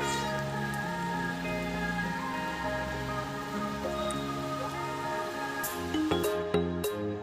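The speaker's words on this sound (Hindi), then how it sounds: "देख ही सकते हो अचानक से बारिश आ गया एंड हम लोग अभी बाहर रुके हैं।" A sudden shower of rain falls outdoors, a steady soft patter on surfaces with a low background hum and a few sharper knocks near the end.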